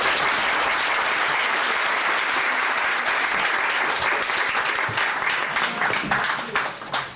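Sustained applause from an evening lecture audience at the OU Israel Center in Jerusalem, dense steady clapping filling the room for several seconds before tapering slightly at the end.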